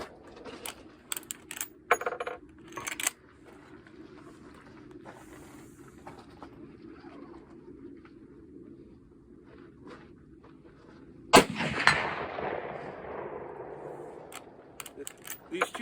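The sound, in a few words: Marlin 336 .35 Remington rifle shot ringing a steel target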